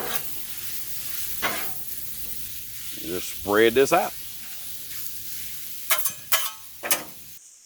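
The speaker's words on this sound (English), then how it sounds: "I just love the sound of food when it hits that griddle and that sizzle starts." Buffalo chicken bites sizzle in oil on a griddle, a steady frying hiss interrupted by a spatula scraping and stirring, while someone talks briefly over it.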